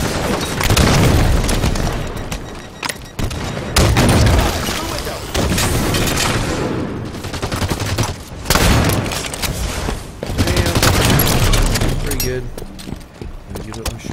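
Halo 5 combat with shotgun blasts and a grenade going off, dense loud bursts of booming gunfire in rapid succession, mixed with game sounds and short breaks throughout.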